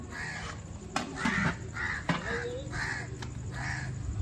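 A crow caws repeatedly in steady harsh calls, fairly close, with light background noise and a brief voice.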